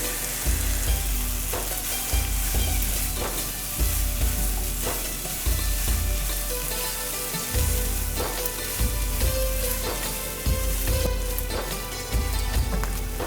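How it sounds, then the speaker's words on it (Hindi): Masala with dried fenugreek sizzles steadily in a hot pan as boiled mashed potatoes go in, with rhythmic stirring and scraping thumps repeating every second or two over the constant frying hiss. "अब इसमें आलू डाल देंगे उबले हुए मैश किए हुए"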